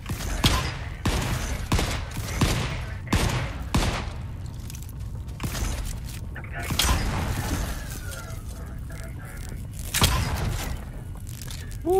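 A shotgun in a steampunk survival game fires again and again at uneven intervals, each blast loud and sharp with a brief mechanical clack, mixed with creaks and ambient noise.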